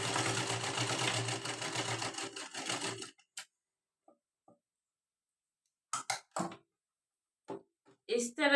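Sewing machine stitching a blouse runs in one steady, fairly loud burst for about three seconds, then stops, leaving only scattered small clicks and handling noises.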